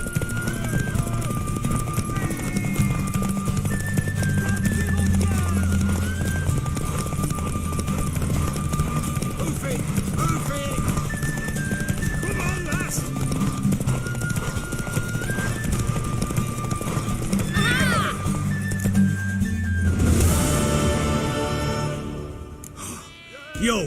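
A horse in The Witcher 3 video game clip-clops along steadily with occasional neighs, under game music and speech, ending in a louder burst of noise.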